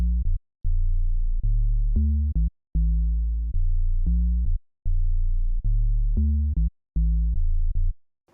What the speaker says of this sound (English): You can hear that it is a tube bass.